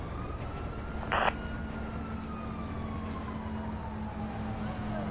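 An ambulance siren in the GTA V video game wails faintly in the distance as a slow rising and falling tone over a steady low engine hum, with a brief burst of noise near the start.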